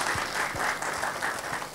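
A church congregation applauds for God, steady dense clapping from a large crowd filling the whole moment without any voices.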